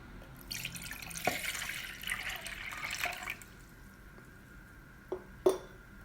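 Water being poured into a pot to make a sauce for an onion, rice and meat dish, a soft splashing rush lasting a couple of seconds, followed by a few faint drips and clinks, with no talking.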